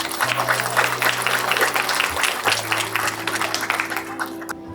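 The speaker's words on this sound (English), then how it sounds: "Please give him a big hand." Applause from an outdoor crowd at a Mother's Day breast cancer charity walk, steady scattered clapping for nearly five seconds over a low steady hum, fading slightly near the end.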